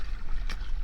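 A small boat is rowed across open water, with a single quick oar splash breaking through a steady wash of wind and water noise.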